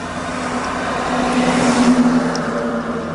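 A car engine revs steadily during a downshift demonstration, a continuous droning hum from inside the car that swells slightly midway through, with no talking.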